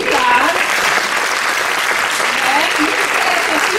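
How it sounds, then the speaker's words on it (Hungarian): An audience applauds a choir teacher at a folk choir concert in memory of Bartók, the clapping dense, steady and sustained, with a few voices murmuring beneath it. "gyorsan tapsoljuk meg tanárnőjét, Kostyák Mártát"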